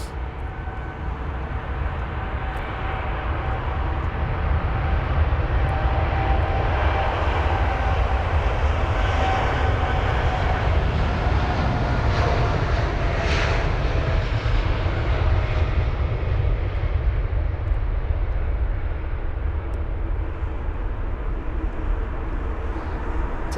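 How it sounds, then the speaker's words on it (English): An Air Canada Boeing 787-9 Dreamliner departing Heathrow for Calgary, a sustained loud jet engine roar that swells and holds for over twenty seconds before easing slightly, with no talk. "So the Air Canada 7879 Dreamliner off to Calgary, flight number AC851"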